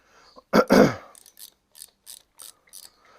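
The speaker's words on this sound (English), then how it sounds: "This is just taking these bolts out of the back of the starter motor that holds the starter motor on." Bolts being backed out of the rear of a starter motor on a Kawasaki Z1 900 engine, a series of short, light ratchet clicks in evenly spaced bursts, close by, after a brief louder grunt-like noise near the start.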